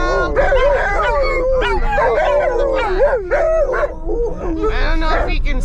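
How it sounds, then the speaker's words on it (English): Several dogs, including one named Venus, howl excitedly inside a car in a long run of wavering yips, whines and howls, loud and close, with a person's voice mixed in. "they still do this crazy howling"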